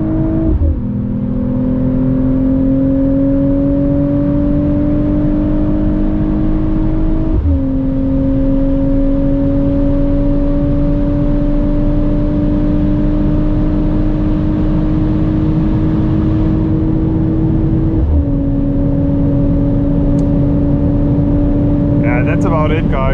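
A Mercedes-AMG CLE53 coupe on the German Autobahn pulls hard at full throttle, its engine droning loud and close, rising steadily in pitch through each gear with two brief breaks at the shifts.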